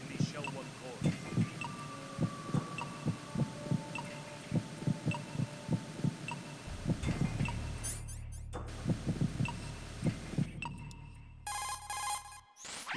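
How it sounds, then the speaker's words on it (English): Heartbeat picked up through a directional microphone in Metal Gear Solid 2, a hostage's pacemaker-regulated pulse thumping in a steady rhythmic double beat over a low hum, then giving way to electronic tones and bursts of static. "His heartbeat should sound different from other people's, so use the directional microphone to locate him."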